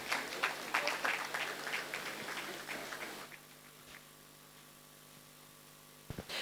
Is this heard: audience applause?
yes